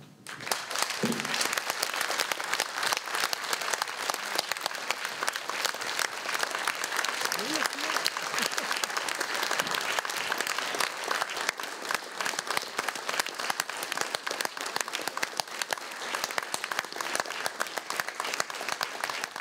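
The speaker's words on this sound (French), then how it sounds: "je vous propose d'applaudir pendant une minute pour envoyer un peu d'énergie donc, au peuple ukrainien" An audience in France applauding together in a minute of support for the Ukrainian people: thick, continuous clapping from a sizeable crowd, steady and fairly loud, with a few voices mixed in.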